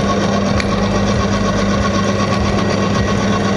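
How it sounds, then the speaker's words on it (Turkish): A motorcycle engine oil test rig, with water-mixed Brava oil under load, whines and drones steadily at close range, its continuous high-pitched mechanical hum carrying a faint squeal and vibration with no talk over it. "Az önce motor burada ötmeye başlamıştı."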